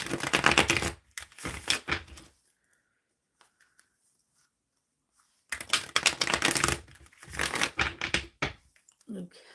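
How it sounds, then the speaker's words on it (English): Tarot cards being shuffled by hand in two bursts of quick riffling and rustling, with a quiet pause between them. "let me give this another good shuffle"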